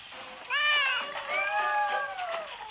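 Cats meowing in a quiet room, two or three close, whiny meows with wavering pitch, one drawn out, over faint background hiss.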